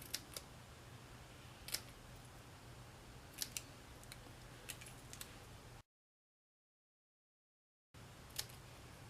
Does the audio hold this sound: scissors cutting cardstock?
yes